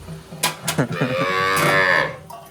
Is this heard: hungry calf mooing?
yes